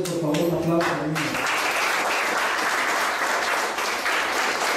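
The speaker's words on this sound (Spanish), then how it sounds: "Bríndense ustedes, por favor, un aplauso." A crowd at a workshop event breaks into steady, dense applause that fills the room, following a brief spoken announcement at the start.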